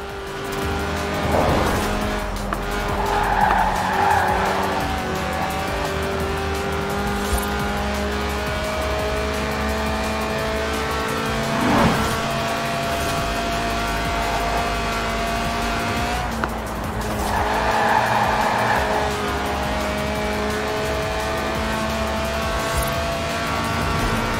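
A high-revving Lotus sports car's 1.8-litre, 190-horsepower engine wails toward 8,000 RPM through gear changes, with tire squeal and screeching passes, loud and continuous throughout, in the game Forza Horizon 4.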